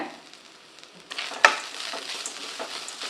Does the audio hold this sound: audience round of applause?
no